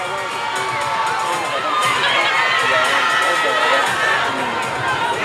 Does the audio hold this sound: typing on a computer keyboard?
no